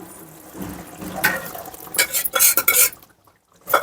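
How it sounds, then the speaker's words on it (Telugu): Gongura leaves are tossed onto large cooked prawns in a pan, giving a few clinks and scrapes of a utensil against the pan amid soft rustling, with quiet gaps between the bursts. "ఇప్పుడు దీంట్లో గోంగూర వేసేస్తున్నాను"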